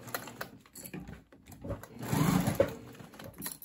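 Sewing machine stitching the interior of a crossbody bag, a soft, quick mechanical whir that swells and pauses, heard close and at low volume.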